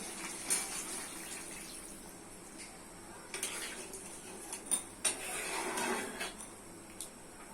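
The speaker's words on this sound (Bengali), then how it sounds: "টমেটো সিদ্ধ হয়ে গেছে দিচ্ছি জল" Water goes quietly into a pan of tomato, potato and chicken curry, a soft splashing pour with light clinks of pot and utensil, faint and close with no talk.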